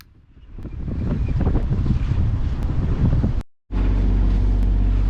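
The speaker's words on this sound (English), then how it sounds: "it was obvious the wind was getting stronger and it was becoming a very uncomfortable sail" Strong wind roars across the microphone aboard a sailboat in rough, uncomfortable conditions, a loud continuous buffeting rush that cuts out briefly near the end before returning just as heavily.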